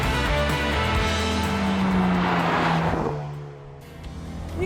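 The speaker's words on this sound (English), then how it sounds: "the only thing I don't like about this car is the exhaust note." A 2020 Ford Mustang with the high-performance package and 2.3-liter turbo engine drones steadily with its exhaust note, holding a sustained tone before easing off near the end and then rising again.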